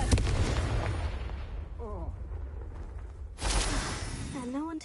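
A Confringo fire spell explosion in Hogwarts Legacy: a loud low blast at the start, a quieter rumbling tail, then a second burst near the end, with voices talking in between.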